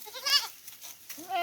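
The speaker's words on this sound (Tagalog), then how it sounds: "ito yung isa sa mga kambing ko na talagang magaling magdala ng anak" A goat, a dependable mother in a herd grazed near a forest, gives two short bleats close by, a wavering cry followed by a fainter second call after a short gap.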